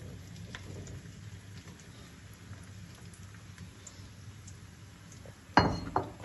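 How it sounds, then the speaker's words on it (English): Cubed eggplant goes into a pan of golden purple onion: a faint, low background sizzle gives way to a sharp crackling burst as the pieces land near the end. "I'm going to add my eggplant, which has been cut into cubes"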